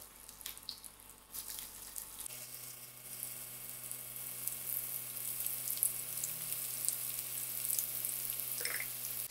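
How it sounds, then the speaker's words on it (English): Vegetarian soya fish placed into hot oil, a continuous bright sizzle that starts abruptly after a few seconds of quieter handling noise and holds steady and moderately loud, with a low hum beneath. "So using my hand, I'm going to place in my soya fish gently into the hot"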